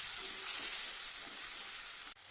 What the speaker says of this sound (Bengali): এটা মশলাটা কষিয়ে নিচ্ছি, একটু সামান্য একটু গরম জল দিয়ে দিই, কষিয়ে নেব ভালো করে।